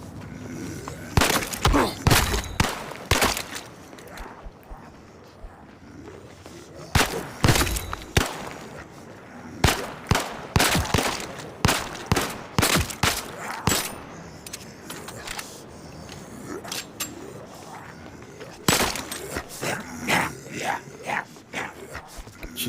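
Guns fire in the VR shooter Zero Caliber: Reloaded: sharp, loud cracks come singly and in quick clusters, separated by quieter gaps, with a few rapid volleys near the end.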